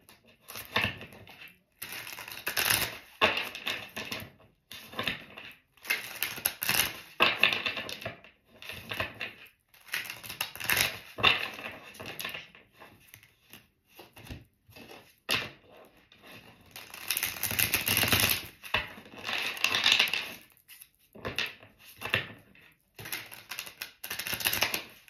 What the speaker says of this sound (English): I guess it's time to stop shuffling them.